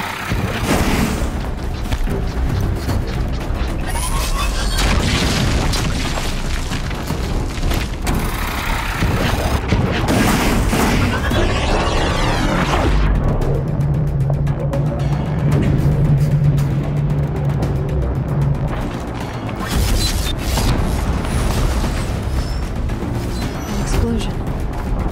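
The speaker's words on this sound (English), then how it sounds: "Explosion." Explosions in the video game Horizon Zero Dawn during a fight with a corruptor machine, heavy booming blasts rolling continuously over a dense mix of game sound effects and music, loud throughout.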